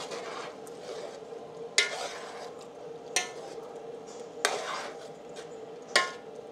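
A spoon stirs strained pork dinuguan in a pot, with soft continuous scraping under a low simmer and four sharper clinks of the utensil against the pot at regular intervals.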